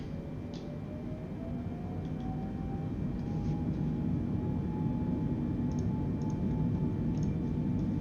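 Boeing 747-8i jet engines spooling up for takeoff in Microsoft Flight Simulator, a steady low rumbling roar with faint rising whine and occasional light ticking, heard without talk.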